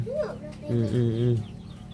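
Farmyard chickens cluck close by in a short burst of a few rising calls followed by a longer drawn-out cluck, while someone speaks in the background.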